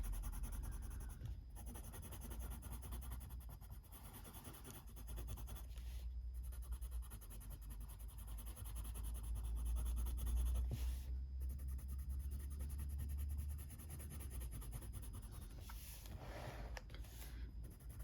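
A coloured pencil is pressed hard against colouring-book paper, making continuous faint scratching strokes that come in a steady back-and-forth rhythm and stay quiet throughout.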